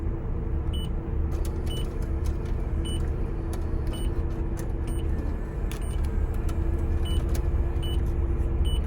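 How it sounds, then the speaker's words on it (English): Center console buttons on a Mazda RX-8 beep each time they are pressed, sharp high chirps repeating irregularly over a steady car-interior hum. "this car beeps every time you press a button"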